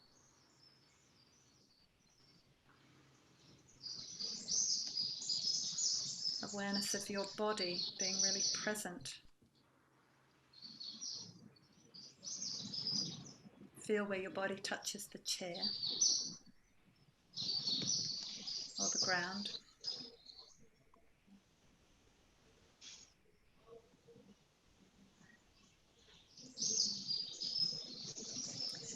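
Birds sing outdoors at a home, with bright chirps and calls coming in bursts that are sometimes close and clear. A calm voice speaks steadily over them.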